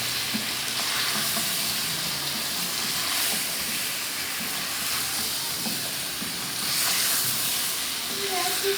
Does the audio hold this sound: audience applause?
no